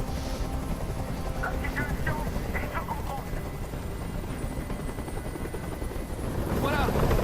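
A helicopter hovers nearby in the Detroit: Become Human hostage scene, with a constant low rotor chop and engine rumble that swells louder near the end, as a character speaks over it.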